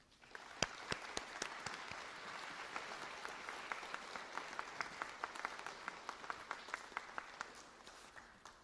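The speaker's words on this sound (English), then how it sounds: "Will you join with me in giving a round of applause again to all those" An audience at a Christmas charity event applauds its sponsors, a steady crowd clapping heard from a distance, with sharp individual claps standing out over the wash.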